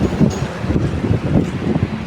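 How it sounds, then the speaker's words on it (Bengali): Wind blows steadily outdoors, a broad rushing buffet against the microphone that rises and falls throughout with some low rumble beneath. "বাতাস টাতাস চলছে"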